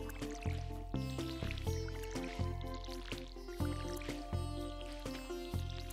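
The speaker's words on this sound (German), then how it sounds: "So, erstmal wieder das Gießen." Watering can sprinkling crops in the farming video game Stardew Valley, with repeated short splashy watering bursts in a steady rhythm over light tonal background music.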